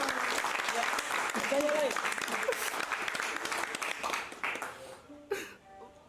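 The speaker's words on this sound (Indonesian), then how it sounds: "Semua tepuk tangan" Group applause during a closing statement, a burst of close, lively clapping mixed with cheering and chatter, fading out after about five seconds into a few scattered claps and voices.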